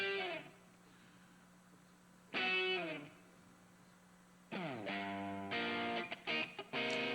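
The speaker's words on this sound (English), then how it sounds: "let's take a listen to that room reverb on that guitar" Distorted electric guitar chords ring out in short strummed bursts with pauses between, each tail washing into a roomy reverberant decay from a default stock room reverb plug-in in Studio One.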